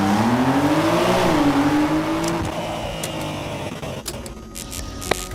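A 2025 Porsche 911 Carrera engine revs up in a rising, then easing howl before settling into a quieter rumble with faint clicks, heard alone without speech.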